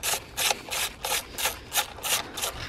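A ratchet wrench loosens the 10 mm bolt that holds a car's MAP sensor. About eight quick, even rasping strokes come up close, with no talking.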